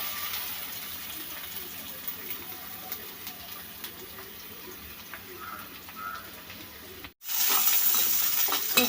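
Chopped onions frying in a pan with prawns make a soft, continuous sizzle with light stirring scrapes, then the sizzle turns suddenly louder after a short break near the end.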